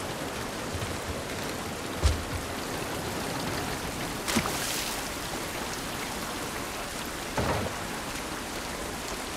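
Heavy rain falls continuously in The Last of Us Part 1 Remastered, a dense hiss broken by a few short knocks and splashes.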